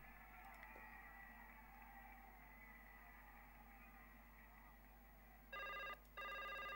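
In the point-and-click game Baphomets Fluch 5, a telephone rings in two short electronic bursts near the end, after a long, faint stretch of low background ambience.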